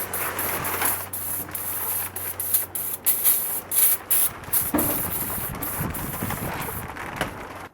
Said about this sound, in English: brake cleaner for brake parts and brake jobs